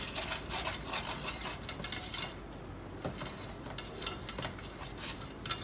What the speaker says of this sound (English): We're going to get this butter and flour kind of cooking together to kind of make like a little sauce. And we're just going to whisk this around like this.